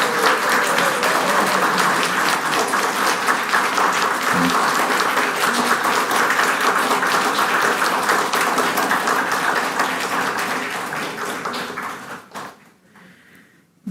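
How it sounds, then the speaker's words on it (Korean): A church congregation gives a sustained round of applause during a Korean Sunday worship service, with dense, steady clapping filling the room for about twelve seconds before fading out and stopping abruptly. "홍 장로님께도 박수를 보내주시면 감사하겠습니다"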